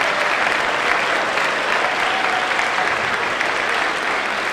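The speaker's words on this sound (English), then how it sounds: "give a big round of applause to your parents and family members who supported you throughout this" A commencement audience of graduates' families applauds steadily, a dense, even wash of clapping that holds at full strength for the whole stretch with no voices standing out.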